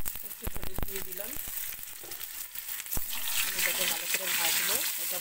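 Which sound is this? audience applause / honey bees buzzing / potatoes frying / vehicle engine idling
potatoes frying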